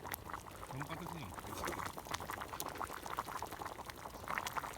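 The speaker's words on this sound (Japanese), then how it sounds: "えらいグツグツいいよ。" A nabe hot pot in a round camping hangō pot at the Aso Rainbow Valley campground in Kumamoto simmers with continuous close bubbling and popping, while people talk over the boiling.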